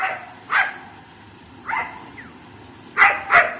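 Three short bursts of a dog barking in Cuttack, India, spaced apart over a quiet background: one single bark, then one softer bark, then two close barks at the end, moderately near with no talk.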